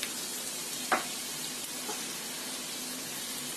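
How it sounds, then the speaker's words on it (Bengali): Onions fry with salt and soy sauce in a pan, giving a steady close sizzle with a couple of brief scraping stirs and no voices. "পেঁয়াজটাকে একটু ভেজে নিতে হবে।"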